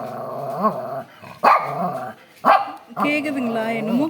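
A shih tzu growls and barks in short bursts close by, with sharp yaps breaking through a steady, whining growl while a person talks over it.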